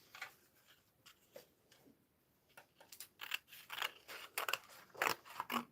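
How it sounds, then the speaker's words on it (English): Scissors roughly cut card, a string of quiet crisp snips and crunches, sparse at first and then quicker and denser, close by in a quiet room. "So I'm just going to go and roughly cut that out."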